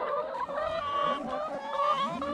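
Chickens in a coop make soft, overlapping clucks and warbling calls, close by and continuous, with no talking.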